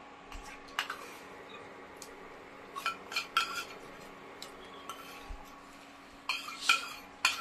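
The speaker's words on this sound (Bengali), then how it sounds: "এবার এটা নাড়াচাড়া করে একটু ভাজবো" Tulsi leaf paste for homemade amla chyawanprash being stirred and fried in a pan: quiet scraping with scattered metallic clinks of the spoon against the pot, in irregular bursts over a low steady background hum.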